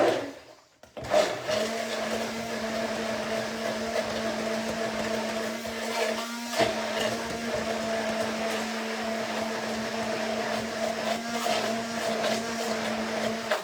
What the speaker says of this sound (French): Alors on va remettre le mixeur et on recommence.